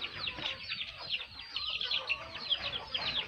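Fighting-breed chickens cluck and chatter in a steady, busy stream in the morning, fairly close, with no voices over them.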